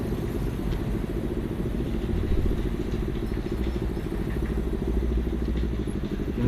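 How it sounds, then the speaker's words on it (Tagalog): A motorcycle engine drones steadily in city traffic on a Manila-to-Taguig ride, a loud, continuous rumble with faint clatter and passing vehicle noise and no talking. "Ingay ng motor na yan."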